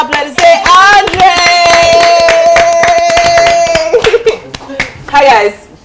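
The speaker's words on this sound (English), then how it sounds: "Applaudissé, Andre." Lively audience clapping for Andre at a season finale show, sharp rapid hand claps throughout, loud and close, with a sustained tone and excited voices mixed in toward the end.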